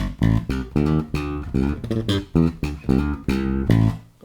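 Bass guitar plucked with a three-finger picking technique, playing a simple riff of about eight short repeated notes in a steady rhythm, close and clear with no voices.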